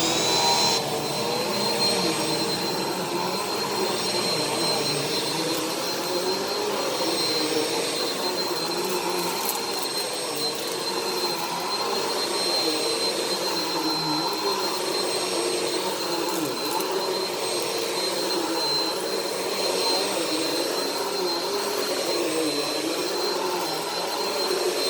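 A Bissell PowerForce Helix Turbo upright vacuum cleaner runs continuously at a steady, loud whine with a constant airy roar and high tonal hum, no talk over it.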